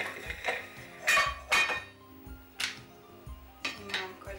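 Zepter cookware being handled: a lid set aside, a combi bowl placed and a heat controller unscrewed, giving several sharp metallic clinks and knocks in uneven succession, close and fairly loud against a quiet kitchen.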